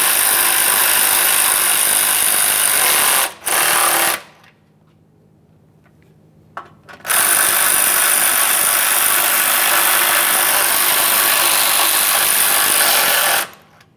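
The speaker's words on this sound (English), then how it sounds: "start in both of your 10mm headed mounting bolts. After they're both started, go ahead and snug them up." Power tool snugs up 10mm bolts on a grille mounting bracket of a 2011-2021 Jeep Grand Cherokee, a loud close whirring drive in long bursts, broken by a short stop and a quieter gap with a faint click before running again.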